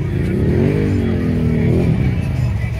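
A mud-worn ATV at an off-road park in Fayetteville, North Carolina, its engine revving loudly and close, pitch rising and falling in a sustained throaty drone.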